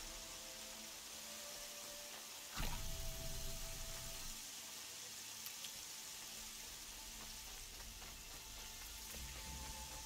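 Steady rain hisses as an even, continuous wash in the video game Horizon Zero Dawn, with a brief thump and faint game sounds near the start, quiet overall with no talk.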